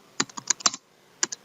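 A computer keyboard clicks as code is typed, with a quick cluster of close, crisp keystrokes, a short pause, then a few more taps.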